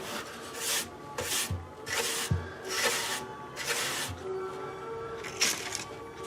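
Abalone shell purfling set into a spruce guitar soundboard is sanded by hand in repeated rasping back-and-forth strokes, close and fairly quiet, with light knocks between passes.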